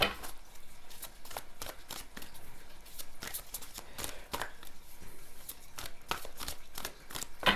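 A deck of tarot and oracle cards is shuffled by hand: rapid, crisp riffling and flicking clicks run continuously and close up.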